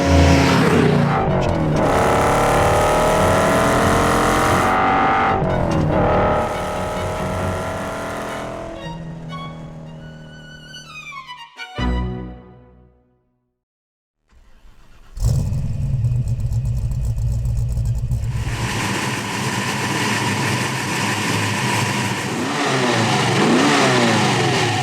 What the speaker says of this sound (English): this is a 1967 Shelby GT350